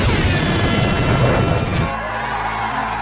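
An explosion tears through a concert in an action film as a loud, dense, rumbling blast that fills the first two seconds before dropping to a quieter, low ringing bed.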